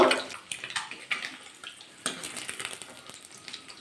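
Eggs frying in oil until they colour, for an Afghani egg curry; a steady crackling hiss with bursts of spattering and a few sharp pops, fairly close and alone.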